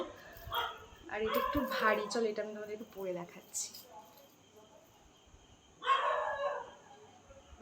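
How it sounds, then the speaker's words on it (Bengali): A dog barks outside, muffled and somewhat distant, in a couple of short bursts beneath a person talking indoors. "বাইরে কুকুর ডাকছে।"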